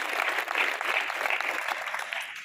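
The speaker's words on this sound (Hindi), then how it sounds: "बजा लो ताली" Audience clapping at an annual exam function of a higher secondary school in Panautha, Chhatarpur, a steady dense burst of many hands, fairly close and even throughout.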